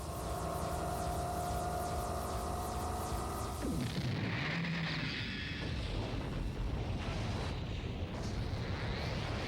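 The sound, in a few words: spaceship cannon firing in anime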